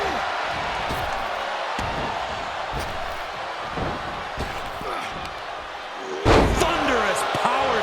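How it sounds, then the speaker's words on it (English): Pro wrestling power slam crashing onto the ring mat in an arena, a heavy thud under crowd noise and commentary, with a louder impact and cheering surge near the end. "Thunderous power slam."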